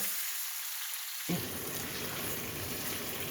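Potatoes frying in hot olive oil sizzle steadily, then grow into a fuller, louder crackling hiss as they are stirred around in the pan, close by and with no talking.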